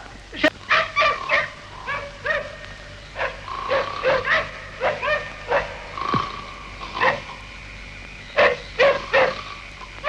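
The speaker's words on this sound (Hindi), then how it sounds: "कुत्ते कब से भौंक रहे हैं?" Several dogs bark at night in a film scene, repeated overlapping yips and barks in uneven bursts, fairly close and loud, with whimpering notes between them.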